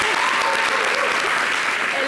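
Audience applause on a Guinean TV variety show after a singer's performance, dense steady clapping throughout with a voice faintly audible underneath.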